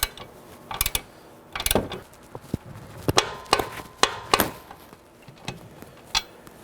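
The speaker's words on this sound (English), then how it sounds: "I'm going to grab that 18mm wrench again and secure it from the back. Hold my wrench while I tighten down." A ratchet tightening a strut bolt on a 2018-2024 Chevrolet Equinox while an 18mm wrench holds the back, sharp metallic ratchet clicks and clanks in irregular close bursts with quiet pauses between.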